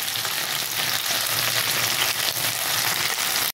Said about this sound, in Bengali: দিয়ে একটু ভেজে নেবো।